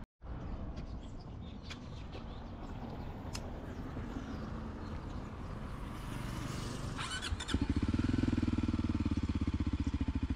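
A motorcycle engine idles steadily close by, a low rumbling throb that grows louder and rougher near the end as the revs rise, with faint birdsong in the background.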